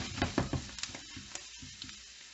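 Egg-coated pieces of food fry in a pan with a soft sizzle, broken by a few clattering stirring knocks early on, close and fairly quiet, with no talk.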